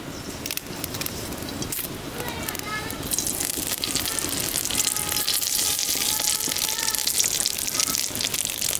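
Green bay leaf dropped into hot melted ghee in a pan, giving a steady frying hiss and sizzle that swells louder after a few seconds and holds at a fairly loud, even level.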